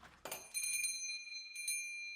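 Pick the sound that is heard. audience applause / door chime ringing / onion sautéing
door chime ringing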